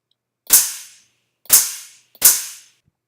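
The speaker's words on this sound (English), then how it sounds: "So we have a snare-like sound" Three sharp, snare-like percussion hits from a basic synthesizer patch built in Max, each a bright noisy crack with a quick decaying tail, irregularly spaced and loud, with no talking.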